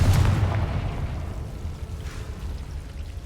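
A Confringo spell from the video game Hogwarts Legacy detonates in a loud boom at the start, and a rumbling explosion then fades slowly into a low, noisy tail.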